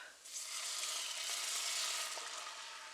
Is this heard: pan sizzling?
yes